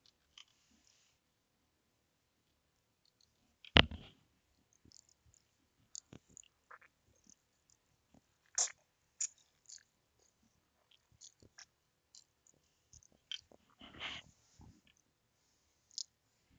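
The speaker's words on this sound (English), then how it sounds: "I'm eating noodles, so if you hear like munching sound," Someone eating noodles at a computer desk, with scattered soft chewing and crunching clicks and a few sharper bites, close to the microphone and otherwise quiet.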